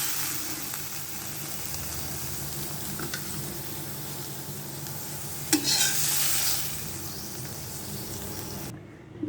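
Cooked fish bhuna is lifted out of a frying pan: a steady, close sizzle with scraping stirs of a utensil, one sharper clatter partway through, and the frying noise cutting off abruptly near the end.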